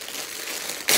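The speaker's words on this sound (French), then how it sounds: "Voilà, on va déchirer." Brief crinkle of package wrapping being torn open, faint rustling building to a sharp louder rip at the end, close and alone.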